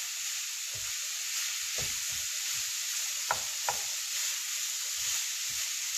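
Ground beef for Caribbean beef patties frying in a pan, a steady soft sizzle throughout with a few brief stirring scrapes and clicks.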